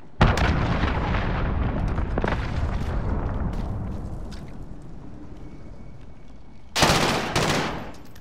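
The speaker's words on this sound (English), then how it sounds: "Allied cruise missile away" Cruise missile strike in Call of Duty Modern Warfare, hardcore team deathmatch on the Cave map: a long rumbling roar of blasts and gunfire, then a sharp, loud explosion burst near the end that fades away.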